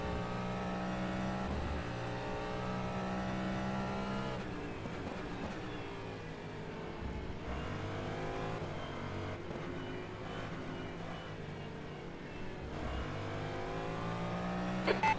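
Race cars in the rFactor 2 sim racing game during a six-hour endurance race at the Nürburgring, engines droning and revving continuously with shifting pitch as the pack runs close together, loud and sustained with no talk.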